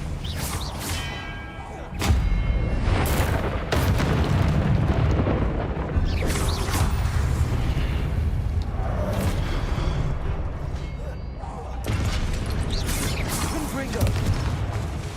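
Confringo blasting-spell explosions in the Hogwarts Legacy video game, with heavy booming blasts erupting at intervals over a dense, roaring battle din, while a voice talks throughout.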